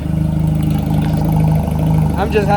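A 27-year-dormant Honda Rebel 250 motorcycle engine runs at a steady, near idle with a low, even pulsing drone, and a voice breaks in at the end.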